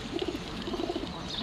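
Army pigeons cooing softly in a loft, a low murmuring burble that pulses steadily through the whole stretch against a constant background hiss, with no voices.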